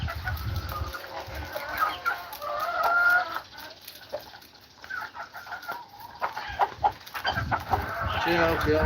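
A calm rooster held in someone's arms on a farm in Aklan clucks repeatedly at close range, with crowing and other fowl calling throughout amid continuous outdoor background noise.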